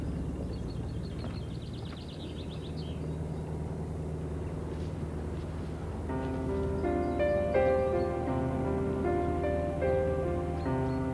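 Small canal boat engine running, a low steady rumble throughout, with a bird chirping early on and music coming in over the engine partway through.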